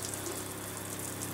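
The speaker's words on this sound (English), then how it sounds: "I'm going to turn on the faucet." Pink antifreeze runs through an RV faucet during winterization, making a steady, hissing gush of flowing liquid with no pauses and no talk.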